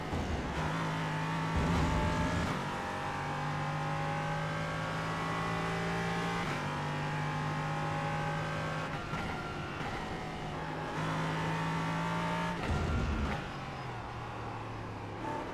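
LMP3 and GT4 race cars in a multiclass sim racing game give a continuous, moderately loud engine drone with layered whining tones. Pitch rises and falls as gears change, with no talking.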